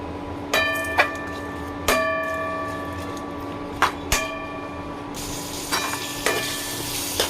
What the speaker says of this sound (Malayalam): ഇഞ്ചി വെളുത്തുള്ളി ഒക്കെ ഇട്ട് കൊടുത്ത് ഇനി നമ്മൾ കുറച്ച് പെരിഞ്ചീരകം, കുരുമുളക്, ഗ്രാമ്പു, ഏലക്ക, പട്ട ഇതിൻ്റെ കൂടെ ഇട്ടിട്ട് നമുക്കിത് നല്ലപോലെ ഒന്ന് വഴറ്റിയെടുക്കാം.